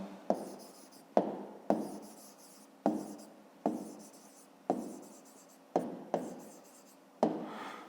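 Pen writing on paper in a series of about ten short scratchy strokes, each starting sharply and trailing off, close and fairly quiet with no talk.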